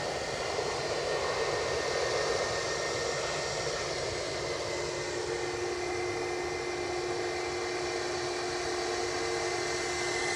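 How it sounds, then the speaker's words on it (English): A Ryanair airliner on approach to land at Edinburgh Airport roars in a steady, loud, broadband engine drone with a faint whine, continuous for the whole stretch and with no talk over it. "My daughter's favourite plane coming in. Ryanair?"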